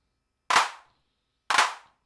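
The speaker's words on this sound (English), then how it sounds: "becomes like a messy clap of drunk people on New Year's Eve." Two broad, smeared claps from a Weston Precision Audio AD110 analog drum synthesizer with wide spread, each a thick cluster of slightly staggered hits about a second apart, sounding loose and messy rather than tight.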